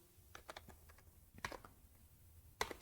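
Code is typed on a computer keyboard in short, scattered bursts of keystrokes, close and fairly quiet, with sharper clusters near the end and no talking.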